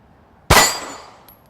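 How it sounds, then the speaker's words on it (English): A single sharp metallic clang rings out as a bullet strikes a steel target, loud and close, with a bright ringing tail that decays over about a second against quiet surroundings. "Now I'm going to shoot at a steel target, so you'll be able to hear if I hit or not."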